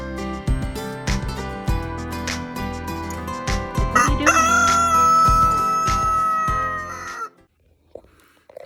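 A rooster crows loudly and nearby, one long drawn-out call with other fowl clucking around it, then quiet at the end.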